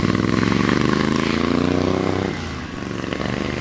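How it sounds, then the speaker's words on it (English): A 1977 Sportster motorcycle engine running nearby: a loud, continuous rumbling drone with a throbbing pulse that dips slightly in level partway through, heard on its own without talking. "There's Billy on a 77 Sportster."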